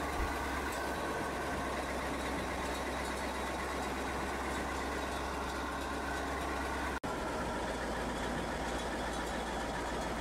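A tractor engine idles steadily on a farm at harvest time, with a constant low rumble that holds throughout and breaks off for an instant near the end.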